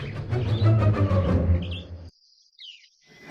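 Birds chirp busily in a dense chorus of high tweets, then the sound drops away to brief faint calls.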